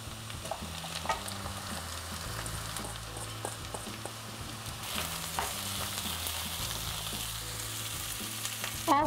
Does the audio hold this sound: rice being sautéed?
yes